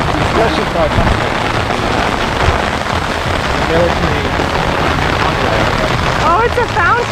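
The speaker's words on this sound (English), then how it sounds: "Oh, it's a fountain. I thought it was just the rain." Water from a fountain splashes steadily and loudly on an outdoor day in Seoul, a continuous rain-like wash with a voice faintly audible beneath.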